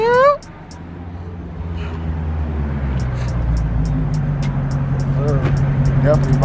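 A Mopar car with a 392 engine idling and building into a rising, throaty rumble that stays loud and close, with people's voices and high-pitched shouts over it.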